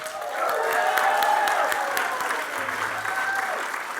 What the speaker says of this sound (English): Please join me in welcoming and give the loudest, most beautiful applause to Uncle Henry Atkinson.